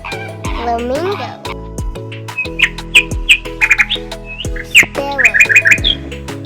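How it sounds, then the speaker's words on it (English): A flamingo gives a few squawking calls and short bursts over a bright musical backing, moderately loud and close, with no talking. "Flamingo."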